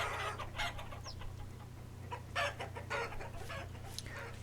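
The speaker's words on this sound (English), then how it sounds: "Not nearly as many chickens in this one as there is in the other either." Chickens in the video game Vintage Story cluck in short, scattered bursts, several birds near and mid-distance over a steady low hum, with no talking.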